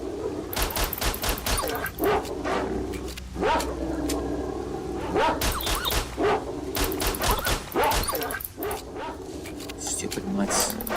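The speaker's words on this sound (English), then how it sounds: "How many of those dogs are here?" Dogs bark repeatedly in a video game, yips and bow-wows overlapping with bursts of gunfire, while a player talks over the commotion.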